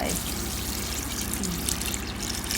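Rice water trickles and pours steadily into a pot nearby, a continuous gentle splashing stream.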